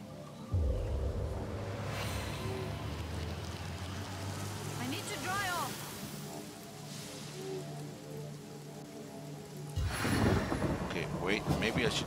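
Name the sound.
rain spell with thunder in the video game Divinity Original Sin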